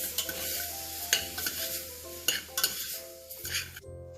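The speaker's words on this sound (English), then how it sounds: "I'll add tomatoes now and mix them properly for just few seconds" Chopped tomatoes are stirred in a hot cooking pan for a daliya and moong dal khichdi, with repeated scraping strokes of a spoon over a close, steady sizzle and occasional metallic knocks against the pan.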